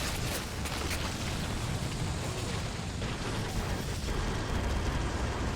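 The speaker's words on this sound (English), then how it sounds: "Baneblade here with all its weapons firing away at the enemy." Baneblade super-heavy tank in a Warhammer 40k strategy game pouring fire from all its weapons in a huge battle against an Ork army, a dense continuous roar of booming cannon blasts and explosions layered into a loud, unbroken wall of battle noise.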